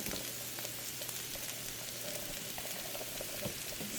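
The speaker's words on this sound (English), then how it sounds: "Let's go ahead and pour the zucchini." Sliced zucchini hits a hot pan for succotash and settles into a steady, soft sizzle and crackle, faint and continuous with small pops, no voices.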